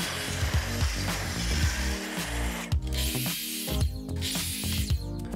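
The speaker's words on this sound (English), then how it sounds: "I'm gonna use my track saw just because it's easy" A track saw cuts through a board for an epoxy cutting board, a loud continuous whining and grinding blade noise with shifting pitch as it moves through the material.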